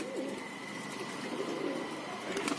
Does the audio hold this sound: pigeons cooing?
yes